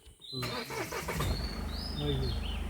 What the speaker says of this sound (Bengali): যেই গাড়িটা স্টার্ট করে